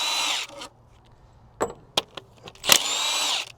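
A power tool, likely an impact wrench, runs in short, loud whirring bursts as bolts come off the engine cover of a Cat 3406B diesel during a teardown, separated by quiet gaps and a few sharp clicks.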